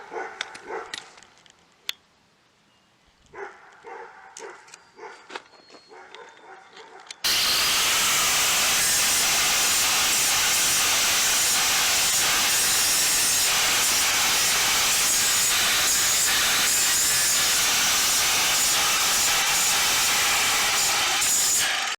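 After a few seconds of quiet clatter, an angle grinder starts abruptly on metal from an IBC tote frame, a loud, continuous abrasive grinding roar running steadily to the end.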